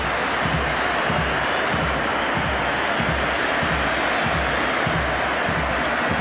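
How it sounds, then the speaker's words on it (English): A packed stadium crowd roars and applauds Lionel Messi at the 2010 Argentina versus Spain international friendly, a dense, loud, continuous wash of crowd noise with no break. "Time for Lionel Messi to take his own personal round of applause."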